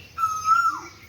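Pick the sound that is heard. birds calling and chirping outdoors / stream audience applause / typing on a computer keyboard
birds calling and chirping outdoors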